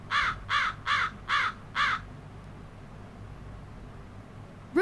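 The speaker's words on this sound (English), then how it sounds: "Hooded crow." A hooded crow caws five times in a steady, evenly spaced series, clear and fairly close, followed by quiet outdoor ambience.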